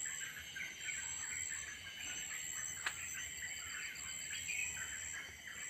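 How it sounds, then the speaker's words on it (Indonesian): Forest birds in Padang Pariaman, Sumatra, sing faintly in the distance with thin, high, repeated chirps and squeals over a steady hum of insects, and one brief sharp click stands out midway. "Coba dengarkan suara burungnya guys."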